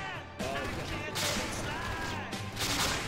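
Gunfire in a military video game sounds as dense, continuous rattling bursts, loud and fairly close, filling the whole stretch with brief surges, while people talk under it.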